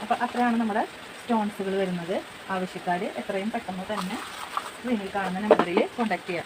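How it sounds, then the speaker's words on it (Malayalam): Rain falls outside as a steady hissing patter that stays under someone talking continuously close by. "ഇവിടെ നല്ല മഴയാണ്, മഴയുടെ ചെറിയൊരു ശബ്ദം ഉണ്ടാവും"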